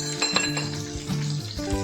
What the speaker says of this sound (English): add your freshly ground chili paste to the pan. Stir and cook it for about 1 or